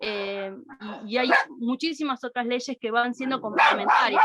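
Pet dogs bark and yip repeatedly near a home video call, sharp loud barks tangled with someone speaking Spanish over them.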